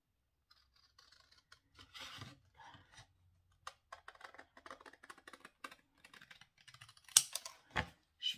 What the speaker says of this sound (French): je vais découper les morceaux qui sont en trop